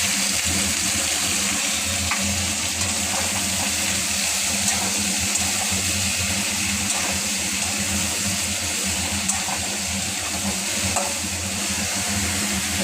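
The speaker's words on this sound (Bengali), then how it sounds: "সবজিটা ভাজা ভাজা হয়ে গেছে।" Green vegetables fry in a pan for a prawn curry, giving a steady, fairly loud sizzle with faint crackles and pops that continue evenly throughout, with no voices.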